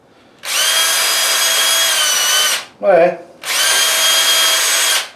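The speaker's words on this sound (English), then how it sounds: "I think the masonry drill will work." A masonry drill bit opens paint-clogged holes in a bicycle wall-storage bracket: two loud, close, steady whining runs of about two seconds each, with a short spoken word between them.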